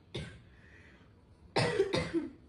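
A student with a lingering cold coughs three times nearby: one short cough, a pause, then two harsher coughs in quick succession, with no talk.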